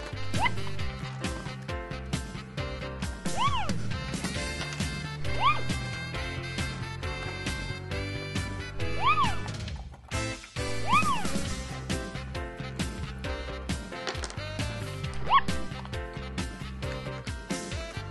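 Small dog barking in a children's supermarket scene, short high yips recurring in quick bursts over busy music.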